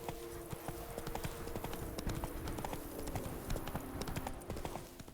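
Roach the horse gallops in The Witcher 3, a quick, steady clip-clop of hooves that carries on throughout, with the light wash of the game's ambience behind it.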